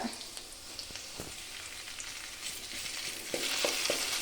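Green chili frying in a little oil in a home kitchen pan for egg rice, a steady close sizzle with occasional stirring scrapes, growing slightly louder near the end.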